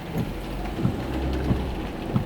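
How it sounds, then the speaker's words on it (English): Heavy rain pours steadily outside during a thunderstorm, seemingly heard from inside a car at a drive-through, with low rumbles of thunder rolling under the constant downpour and no talking. "it's like storming like crazy outside"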